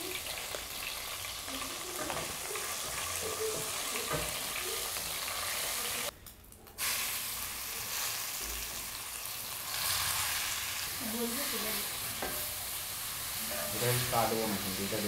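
Dried red chillies and black cumin seeds sizzle and crackle in hot oil for a Bengali radish and prawn dish, a steady close frying hiss with stirring, broken by a brief pause midway.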